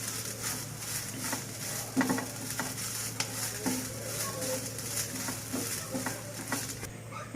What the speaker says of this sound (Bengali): নারকেলটা আমি কয়েক মিনিটের মতো, 2-3 মিনিটের মতো এইভাবে নারকেলটা আমি একটু ভেজে নেব।